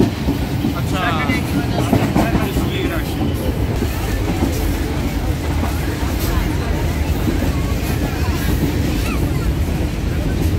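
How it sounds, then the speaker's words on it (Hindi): A crowded passenger train travelling between Lahore and Islamabad gives a loud, constant rumble of rails and carriages with faint rhythmic clatter and wind noise, and voices talk over it. "आप ट्रेन में सफर कर रहे हैं,"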